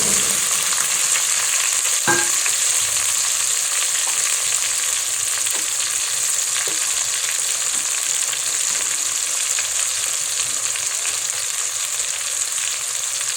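Spring onions fry with pumpkin leaves in a pan, giving a steady bright sizzle throughout, with a few soft clinks and stirring sounds and no talk.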